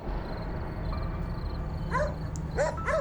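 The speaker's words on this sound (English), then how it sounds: "Now what keeps me company is the creepy howling of dogs." Dogs howl and yip in short rising calls over a steady low rumble of background noise, sounding somewhat distant along a roadside at night.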